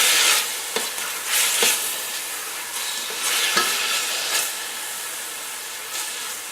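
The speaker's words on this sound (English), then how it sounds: "So I'm going to stir fry this for a while" Marinated pork with rehydrated dried vegetables and seasonings stir-fries in a pan, a steady close sizzle and hiss broken by brief scraping stirs.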